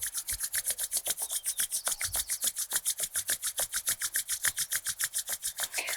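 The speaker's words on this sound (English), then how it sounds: "Begin to rub your hands together vigorously, creating warmth," Palms rubbed together vigorously during a chair yoga session, a steady fast rasping swish repeating about six times a second, close and loud with no talk over it.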